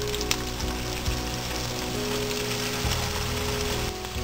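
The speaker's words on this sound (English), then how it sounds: "Now I will fry kofta balls." Malai kofta balls deep frying in hot oil, a steady dense crackling sizzle throughout with brief louder pops, close and continuous with no voices.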